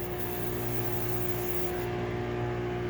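Brake cleaner blasting through a spray can tip in a workshop, a steady loud hiss held without break for the whole stretch, close to the listener.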